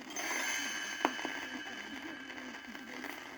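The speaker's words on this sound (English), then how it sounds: "Tinker Bell rings her little bells like this" A small bell rings with a bright, sustained shimmer that lingers and slowly fades, with a soft tap partway through.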